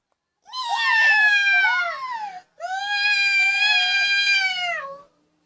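A person imitates a cat with two long, loud, whiny meows in a row, close to the listener, separated by a short breath.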